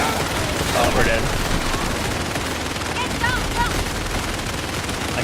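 Sustained automatic gunfire in the game Indiana Jones and the Great Circle, a dense, even barrage of shots running for several seconds at close range without a pause.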